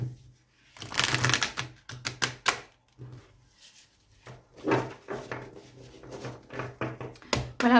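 Oracle cards are laid out one by one on a table for a reading, giving soft, close slaps and clicks in irregular bursts with quiet gaps between.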